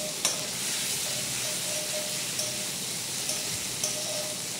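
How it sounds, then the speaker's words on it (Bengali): Spice masala for Bengali potato chops fries in a pan with a steady, dense sizzle that runs throughout, broken by a few brief scrapes of the stirring spoon, close and fairly loud. "যখন একটা বাদামি কালার আসবে ততক্ষণ আমি ভাজতেই থাকবো"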